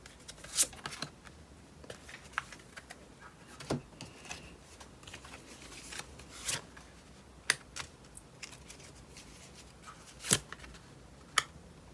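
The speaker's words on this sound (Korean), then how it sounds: "오늘 조금 카드를 많이 뽑아볼게요." Tarot cards are drawn one by one from a deck: quiet, scattered snaps and soft slides of card stock, with short pauses between them and no talking.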